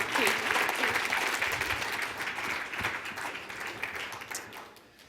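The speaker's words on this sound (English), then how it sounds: "A round of applause." Sustained audience applause at an awards event honoring an athlete finalist, dense and steady for several seconds before thinning toward the end, with voices mixed in underneath.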